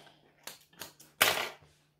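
A sewing machine stitches a fabric wallet in short bursts: two brief runs, then a longer burst of rapid needle clatter that stops abruptly, close and alone.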